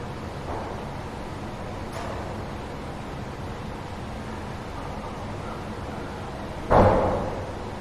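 After several seconds of quiet hiss, one sharp, loud bang like a fist hitting a door rings out and quickly decays.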